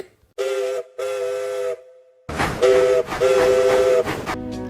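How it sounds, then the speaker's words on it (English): A steam engine whistle from the CGI Thomas & Friends series, sounding in four clear two-tone blasts of about half a second each, loud and close. "Axel says the same whistle sound as Luke."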